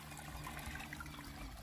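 Continuous rushing and trickling of rainwater running down a dirt road in Cachoeirinha, Pernambuco, steady and fairly close, with no talk over it.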